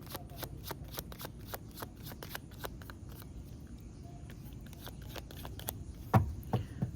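Tarot cards shuffled in steady, rapid riffling bursts close to the microphone, with a few sharper slaps of the deck near the end and no talking.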